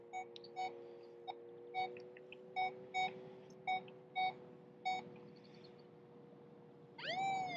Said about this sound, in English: We can hear the beeps again.